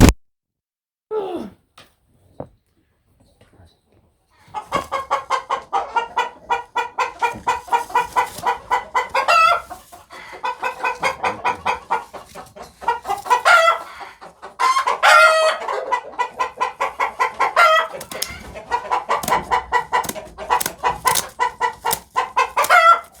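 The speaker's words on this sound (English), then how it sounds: "I'm gonna go over and grab another turkey." Turkeys being grabbed on a farm let out close, loud bursts of rapid clucking and gobbling in uneven runs, after a few scattered calls and a brief quiet start.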